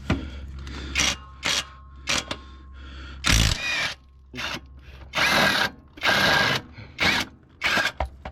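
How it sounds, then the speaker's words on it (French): Short bursts from an impact wrench, spaced irregularly, as it works on an 18 mm engine mount bolt on a Renault 1.5 dCi during a timing belt job. The rattling is loud and close, with brief pauses between pulls of the trigger. "Alors, pas se faire chier, clé à choc."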